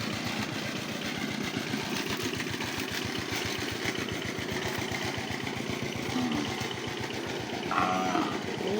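Cattle on a farm with a pond and olive trees, low lowing calls heard against the steady, pulsing putter of a nearby idling tractor engine, with no talking.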